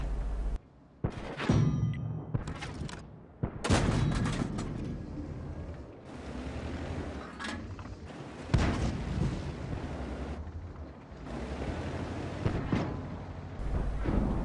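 Tank cannon fire in a video game using high-explosive rounds, with several sharp booming shots and echoing blasts spread across a busy battle soundscape, no talking.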